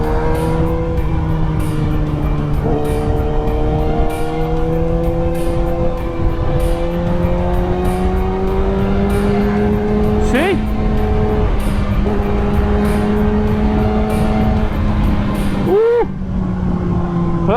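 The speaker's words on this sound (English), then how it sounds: "The sound of that inline 4 matched with the Race Fit exhaust, which is a growler version of it." Kawasaki ZX10R inline-four superbike with a Race Fit growler exhaust holds a loud, steady, close engine drone with gently shifting pitch throughout, a brief blip near the end, and a faint voice underneath.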